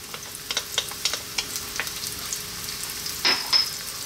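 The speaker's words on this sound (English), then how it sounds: "In goes our onions into that little bit there of olive oil." Onions and garlic frying in a little olive oil in a wok, with a soft steady sizzle broken by scattered crackles and pops, plus a brief louder burst of stirring near the end.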